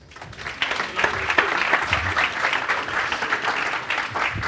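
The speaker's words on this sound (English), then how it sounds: "round of applause for ASOS" An audience at a tech conference talk gives a short burst of steady applause, many hands clapping close by for a few seconds after the ASOS speakers are introduced.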